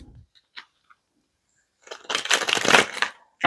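A tarot deck is shuffled by hand, a dense papery riffle and rustle lasting about a second and a half after a few quiet card taps, close and fairly loud.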